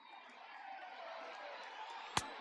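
Crowd of more than 37,000 at an Orioles versus Reds baseball game rising to its feet, a broad steady roar of voices swelling slightly, with one sharp bang near the end.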